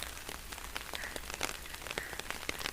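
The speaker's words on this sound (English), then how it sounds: "It's raining heavily." Heavy rain pours steadily at a Buddhist flag point in Dharamshala, a dense, even hiss of drops with sharper patters and splashes scattered through it and no voices.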